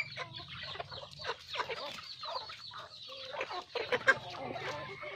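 Young chickens raised in a farm pen cluck and peep in a busy, overlapping chorus, close by and fairly loud, with brief rises of sharper calls.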